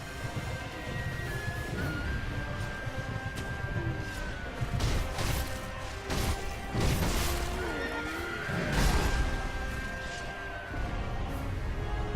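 A horse in the video game Sekiro neighs loudly several times over a steady background of clattering hooves and scattered impacts, with no talking.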